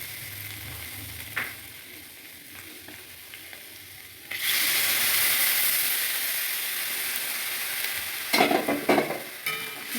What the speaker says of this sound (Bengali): বেশ আলুটা একটু ভাজা ভাজা হয়ে গেছে